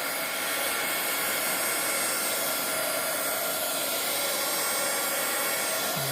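A heat tool blows a loud, steady whooshing roar while drying a craft embellishment, holding constant from start to finish with no breaks.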